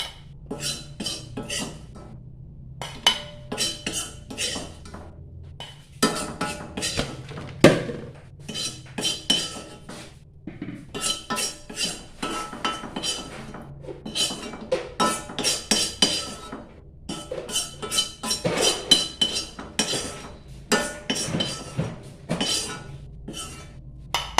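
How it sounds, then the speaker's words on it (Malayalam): Roasted spices and masala for chutney powder being scraped and tipped into a metal vessel, with repeated clinks and scrapes of a spoon against the pot in irregular bursts, close and clear with no talk. "ഞാൻ വറുത്ത സാധനങ്ങളെല്ലാം കൂടെ മസാല ഞാൻ ഈ പാത്രത്തിലോട്ട് മാറ്റുകയാണ്"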